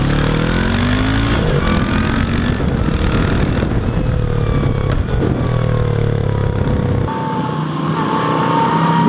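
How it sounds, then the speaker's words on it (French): A 2014 Moto Guzzi V7 II Racer motorcycle engine runs steadily and close by, its low rumble rising and falling slightly in pitch, then settling into a smoother idle near the end. "Le moteur est vraiment très sympa parce qu'il fait un beau bruit"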